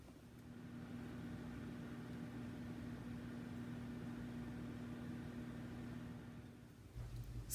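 A microwave oven hums steadily at 50% power with a low electrical drone and fan whir, continuing evenly before a faint click near the end.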